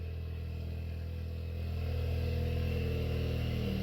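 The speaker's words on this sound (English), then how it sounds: "turbo is obnoxiously loud" A Ford Fiesta ST engine with a loud turbo and downpipe revs up close, a steady mechanical drone that swells louder halfway through and holds there.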